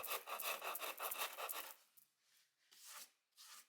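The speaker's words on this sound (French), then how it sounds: "me permet de travailler derrière au ponçage sans avoir trop de rayures et même avec le racloir pour bien peaufiner le rendu" Wood being sanded and worked with a cabinet scraper, a close run of rhythmic rasping strokes, followed by a few slower, separate scraping passes.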